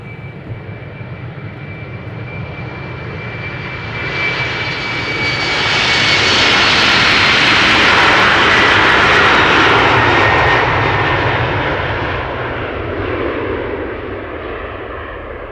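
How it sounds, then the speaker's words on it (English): A KLM Embraer 190 jet departs Amsterdam Schiphol in snowy weather, its engine roar swelling loudly from a distant whine to a powerful peak over several seconds before easing off, with no voices present. "This is KLM flight 1753, Embraer 190, going to Bremen in Germany."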